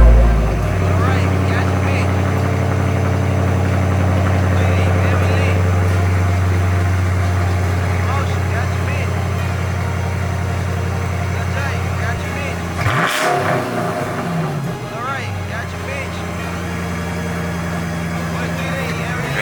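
A Chrysler car's engine, upgraded with new intake runners, holds a loud steady rev close by, then blips sharply and settles back to a high idle, with someone talking over it.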